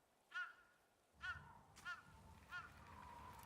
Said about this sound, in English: What kind? A crow.